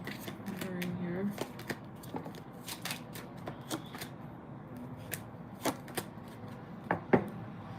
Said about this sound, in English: just shuffling the stacks, picking the cards